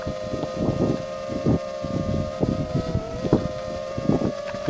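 Gusty wind buffets a 7-inch long-range FPV drone in flight, rough broadband rushes rising and falling in bursts over a steady whining motor tone, loud and close to the microphone.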